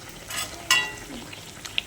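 Kachori frying in hot oil, a soft crackling sizzle with a couple of sharper clinks and spits, fairly quiet and with no voices.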